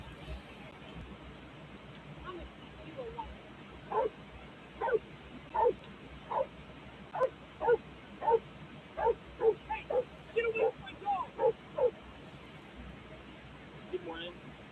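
A dog barks and yips in a rapid series of short, sharp calls with whimpering between them, fairly close and growing busier through the middle, over a steady background hum with faint voices.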